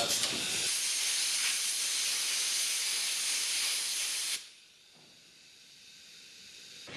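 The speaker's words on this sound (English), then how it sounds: "Use my air compressor. It really blows that grease through and out of the other side." A loud, steady blast of compressed air from an air compressor hisses through a greased bicycle pedal bearing for about four seconds, then cuts off abruptly, leaving a faint hiss and a short sputter.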